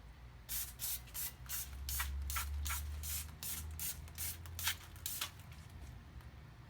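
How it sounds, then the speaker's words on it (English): Short bursts of Brakleen brake cleaner spray hiss in quick succession, close by, over a low steady hum, cleaning brake dust off an Acura MDX front brake. "We'll use some Brakleen and we'll just spray off the brake dust."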